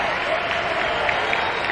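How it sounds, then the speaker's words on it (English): A nearly full crowd at a college baseball game between Ole Miss and LSU cheers and applauds wildly, a dense, steady roar of clapping and shouting throughout. "And you got a nearly full house cheering wildly."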